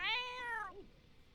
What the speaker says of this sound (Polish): bardzo mnie denerwują już te koty miałczące cały czas